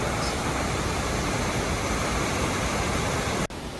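Steady, loud rushing roar of a large waterfall flowing in winter, continuous and close, with a brief dropout near the end.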